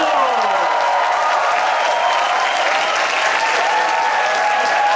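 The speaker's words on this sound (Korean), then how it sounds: "박수!" An audience bursts into loud, sustained applause with some cheering as a speaker is introduced at a church university-group winter retreat in a Goesan youth center hall; the clapping stays dense and even throughout.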